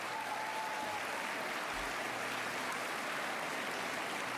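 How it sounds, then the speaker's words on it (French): Sustained crowd applause fills a political rally hall in Saint-Pierre-des-Corps, a dense, steady wash of many hands clapping throughout with no break. "Donc on peut leur faire un tonnerre d'applaudissements."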